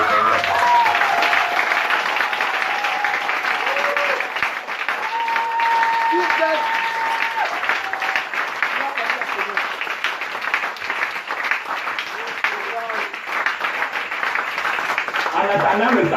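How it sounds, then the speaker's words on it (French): Continuous applause from a church congregation clapping hard for the Lord, a full steady wash of many hands, with speech and singing voices carrying over it. "Maintenant, alors applaudissez plus fort pour le Seigneur."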